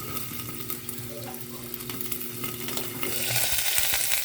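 Food splattering and sizzling in a hot frying pan, a busy crackling hiss that rises louder near the end, heard close up without talk.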